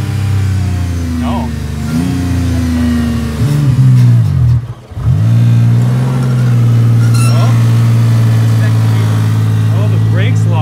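A car engine strains with its parking brake locked on, a loud sustained revving drone that dips briefly near the middle and then holds steady. People talk over it.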